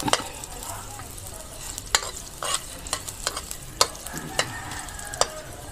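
Ginger frying in oil in a pan, with soft steady sizzling and a series of sharp clinks and scrapes from stirring at irregular intervals, heard up close with no talking.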